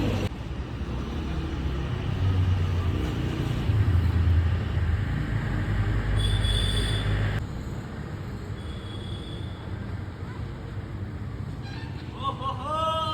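Riding an electric scooter outdoors brings a steady, loud rumble of wind and road noise that eases off partway through, with some faint higher sounds near the end.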